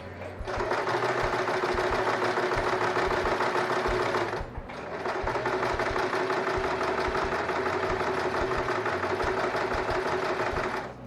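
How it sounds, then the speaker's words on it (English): A sewing machine with a rolled hem foot stitches a narrow hem on a Liberty print fabric, running steadily and loudly up close with a brief pause midway before resuming its fast, even whir. "what this foot does is roll the fabric over twice and stitch it down into a really nice narrow hem"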